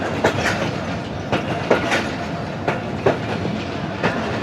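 The Sialkot Express passenger train runs along the track toward Pasrur railway station in Punjab, with rhythmic clickety-clack wheel beats at steady intervals over a continuous rolling rumble.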